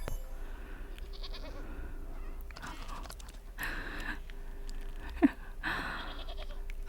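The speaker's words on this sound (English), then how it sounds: "Goat, you're so loud." Goat bleating loudly in the cozy crafting game Wytchwood, a few short nasal calls near and clear over a steady low hum of game ambience, with a sharp click partway through.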